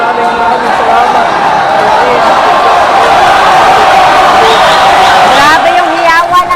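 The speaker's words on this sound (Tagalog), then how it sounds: "Grabe yung hiyawan ng live audience, partner." A live crowd at a basketball game roars and cheers in an indoor court, a dense continuous din of shouting voices, loud and close, with sports commentators talking over it.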